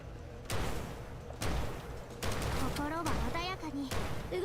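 Heavy-recoil gunfire in a video game, several loud bursts of rapid shots separated by short gaps, with a voice in the game speaking between and under the shooting.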